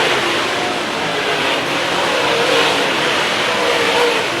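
Dirt track race cars roaring around the oval, a loud continuous engine drone with steady revving and no clear gaps.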